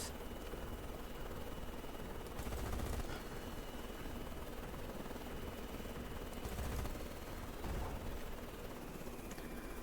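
Machine-gun fire from an aircraft strafing an island in a naval carrier video game, a steady dense rattle with engine drone running throughout and brief louder swells, no talking.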